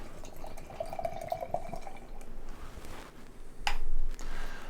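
IPA beer brewed with flaked oats and wheat is poured from a can, a soft gurgling trickle with small glugs and a brief louder splash near the end.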